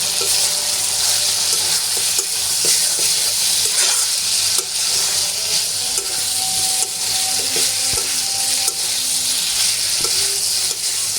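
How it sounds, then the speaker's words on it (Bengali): Chicken being sautéed with fried potatoes in a pan sizzles loudly and continuously, with stirring scrapes and occasional clicks over a dense frying hiss, no talking. "মাংসটা 5 মিনিট কষানোর পরে এখন আমি ভেজে রাখা আলুগুলো দিয়ে দিচ্ছি। এখন আরো কিছুক্ষণ কষিয়ে নিতে হবে।"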